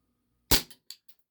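A WE Tech Bulldog 6mm gas blowback airsoft pistol fires one loud, sharp shot nearby, followed by brief mechanical clatter and a few fading echoes, with no talking.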